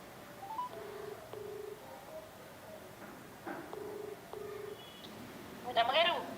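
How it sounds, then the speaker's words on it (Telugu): A phone call being dialed: a series of short, evenly spaced beeping tones and ringback pulses, faint and close, with a brief burst of other sound near the end. "ఫోన్ చేద్దాం ఒకసారి."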